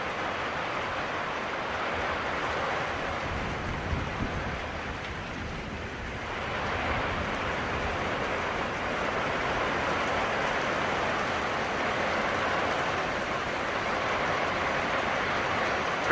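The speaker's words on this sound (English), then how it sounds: "This is an absolute downpour. It is crazy. Just getting flooded." Heavy rain downpour pours down in a steady, dense hiss that swells slightly midway and stays loud and continuous, with no talking.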